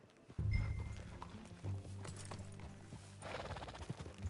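Hooves clip-clop in Red Dead Redemption 2, a fairly quiet, uneven series of hoof strikes with a low rumble and a possible whinny, no talk over it.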